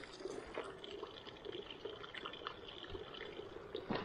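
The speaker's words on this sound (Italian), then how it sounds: "qua di solito riempio la borraccia" A water bottle being filled from a mountain stream in a valley along the Alta Via Lariana, giving a faint, steady trickle and gurgle of flowing water with occasional splashes.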